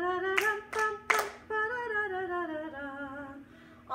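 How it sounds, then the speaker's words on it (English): Three sharp hand claps from children in a dance game ring out early over sustained sung or played melodic tones that carry on steadily afterward. "you're going to freeze in one spot and you're going to do the clapping"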